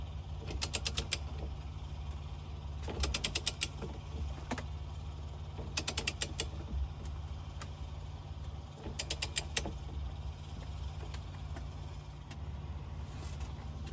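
Torque wrench tightening a part on a 2025 Kenworth W900, heard as four separate short bursts of quick ratcheting clicks spaced a few seconds apart, close but fairly quiet, over a low steady hum.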